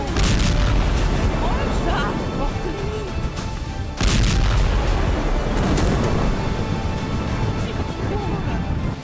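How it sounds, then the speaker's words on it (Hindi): A missile attack on Russia's Black Sea Fleet in Crimea produces loud, sustained rumbling explosions and heavy blasts that fill the sound with roaring noise, with a fresh burst near the middle. "क्रीमिया में यूक्रेन ने रूस के ब्लैक सी फ्लीट पर मिसाइल हमला किया और हमला कितना विध्वंसक था उसकी गवाही ये तस्वीरें दे रही।"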